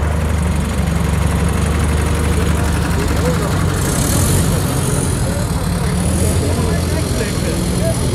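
A heavy vehicle engine runs loud and close, a sustained deep roar with throttle swells partway through, while people talk over it.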